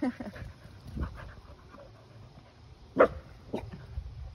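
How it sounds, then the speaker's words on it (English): Dogs pant quietly nearby, with one sharp bark and a couple of softer yips breaking through a faint outdoor background. "there's some mountain dogs."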